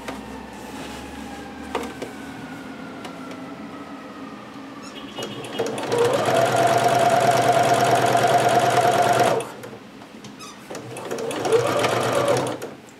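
A sewing machine runs a seam on a Butterick 6322 garment, with a long steady burst of close, loud stitching and then a shorter one, after quieter handling sounds at the start.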